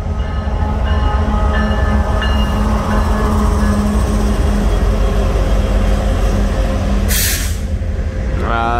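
A local train passes close by with a loud, continuous rumble and rattle of wheels on rail, a sharp hiss of air brakes bursting out near the end.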